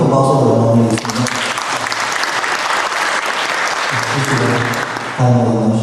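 A large congregation at a church retreat breaks into a big round of loud, sustained applause, a dense wash of clapping that fills most of the moment, with music heard faintly before and after.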